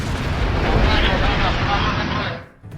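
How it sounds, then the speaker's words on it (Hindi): A huge explosion from an attack on an oil refinery on an Iranian island roars as a sustained, loud rumbling blast for over two seconds, then cuts off abruptly. "सीजफायर के बाद ईरान के लवाना द्वीप पर हमलों से जोरदार धमाका हुआ"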